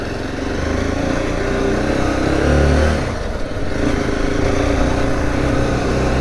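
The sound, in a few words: Zontes T2 310 motorcycle pulling away in first gear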